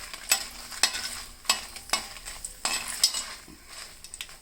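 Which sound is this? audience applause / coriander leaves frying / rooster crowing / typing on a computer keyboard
coriander leaves frying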